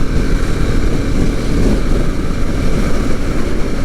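A loud, steady Husqvarna Svartpilen 701 motorcycle engine roar with a rough, throaty exhaust note while revving, held close and constant for a few seconds without talk.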